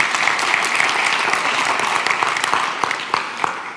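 A church congregation breaks into applause, dense clapping that holds steady and then tapers off over a few seconds.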